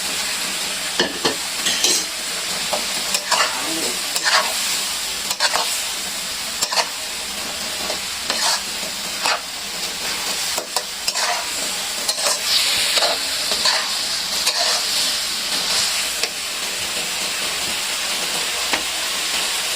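Eggs sizzle and fry in a pan with shallots and chili while a utensil stirs and scrapes, steady bright frying hiss with repeated clicks of stirring throughout, close and loud, no talking.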